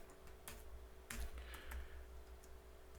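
Computer keyboard typing a short command for a 3D printer, a quick run of soft, close clicking keystrokes in a quiet room.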